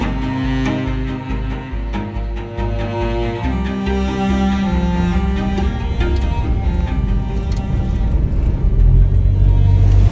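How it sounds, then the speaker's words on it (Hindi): A taxi ride through Yangon, a car's engine rumbling low and steady from inside the cabin with shifting tones as it accelerates, continuous road noise growing a little louder toward the end. "इधर में आ गया टैक्सी लेके"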